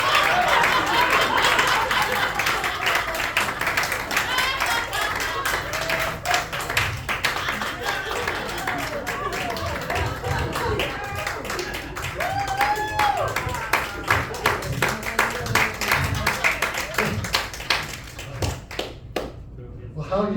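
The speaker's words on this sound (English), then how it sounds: "Give them both a big round of applause" An audience at a magic show claps for two performers in long, dense applause, with voices and talk mixed in throughout and the clapping thinning out near the end.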